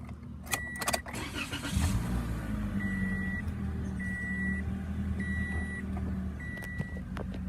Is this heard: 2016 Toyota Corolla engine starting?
yes